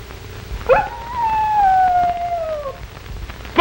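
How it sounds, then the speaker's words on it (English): A wolf howls once in a 1939 film: a long, clear, falling tone that lasts nearly two seconds and carries over a rough background hiss. "It's the call of the North Country, the wolf called."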